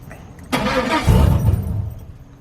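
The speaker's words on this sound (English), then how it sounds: "try to start the truck, and it won't start because the fuel pump isn't working." A 2003–2006 Chevrolet Silverado pickup engine cranks but fails to start because of a disabled fuel pump, with a sudden loud onset of starter churning that runs steadily for about two seconds, close up and without talk.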